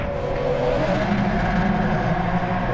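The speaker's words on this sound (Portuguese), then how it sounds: "E o ronco do V12 alemão é fenomenal." In GT Sport, the BMW-built 6.1 V12 of a McLaren F1 GT-R racing car drones at steady high revs, a loud continuous engine roar with a rising whine.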